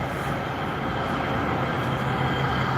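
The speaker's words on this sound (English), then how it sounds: "check out how beautiful this train is" A four-car LA Metro elevated train rolls past close by, a steady loud rumble and rail roar holding evenly throughout with no voices.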